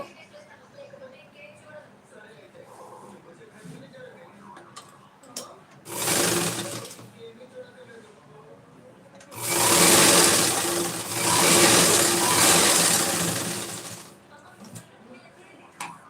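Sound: sewing machine stitching a saree petticoat

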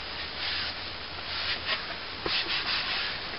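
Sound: wiping dust off a wooden artist's palette

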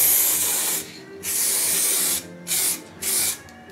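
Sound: aerosol spray can painting a rifle stock

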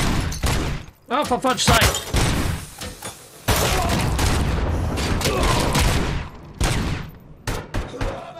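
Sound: gunfire in the video game Robocop Rogue City

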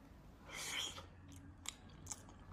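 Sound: chewing a bite of sweet food

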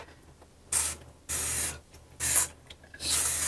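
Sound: spraying cleaner

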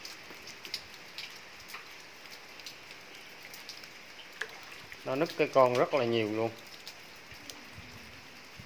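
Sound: rain falling on bonsai plants

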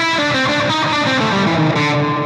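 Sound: guitar with loud reverb placed before distorted amp

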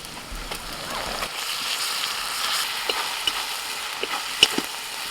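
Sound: ginger garlic paste frying with onions

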